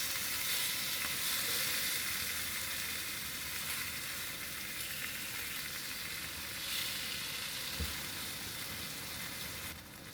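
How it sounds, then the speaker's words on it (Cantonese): A pork chop pan-frying, giving a steady close sizzle with a constant hiss that holds through the whole stretch and eases slightly toward the end. "煎到咁上下，我哋反去另一面，唔使太熟嘅，6至7成都 OK 㗎啦。"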